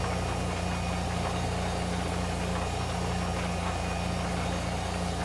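Tractor engine idling in Farming Simulator 2015, a steady, loud, droning mid-low rumble with a constant hum and no change in pace, heard alone without speech.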